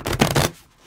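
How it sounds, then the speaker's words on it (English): A deck of oracle cards being shuffled by hand, a brief close riffle-like rustle lasting about half a second before fading into near silence. "Three shuffles."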